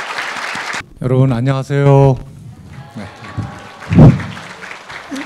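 A short burst of audience applause greets a singing trio of university professors at a news outlet's members' night. The clapping breaks off quickly, and a voice then greets the crowd into a microphone.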